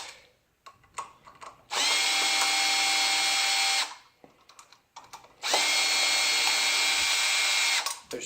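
Power drill loosening the screws on a new garbage disposal sink basket: two sustained whirring bursts of about two seconds each, close and loud, separated by brief clicks and handling noise.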